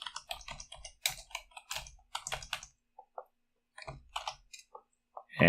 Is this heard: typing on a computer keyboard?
yes